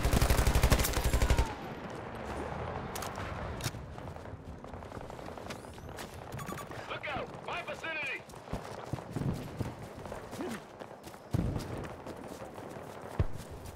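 Rapid automatic gunfire bursts in a Battlefield 2042 match on the Valparaíso map, loud at the start then intermittent shots and battle noise amid game effects, with a player talking over it.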